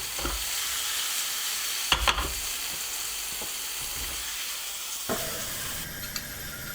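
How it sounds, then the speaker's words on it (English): Onions and tomatoes frying gently over lowered heat in a pan for an 1894 tomato-and-egg recipe, a soft continuous sizzle with a few scraping stirs and knocks from a wooden spatula, close but quiet. "I've turned the heat down on the pan now a bit, and I'm just going to warm up the onions and the tomatoes"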